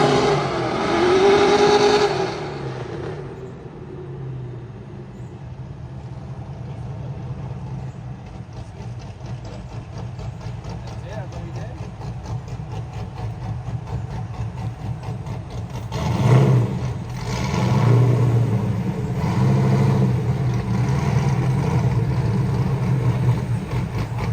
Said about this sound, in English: I will insert a clip of the car running decent after this